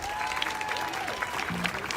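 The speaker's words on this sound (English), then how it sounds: "give yourselves a round of applause for putting that pressure on" Applause from a Black Lives Matter protest crowd in Rochester, a short, dense burst of outdoor clapping mixed with scattered cheers and shouting voices.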